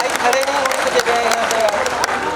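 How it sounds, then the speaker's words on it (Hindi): Loud audience applause at the Shri Kalki Dhaam foundation-stone ceremony, a dense continuous crowd of clapping for a welcomed guest, with faint voices mixed in. "जोरदार तालियों से स्वागत किया जाए।"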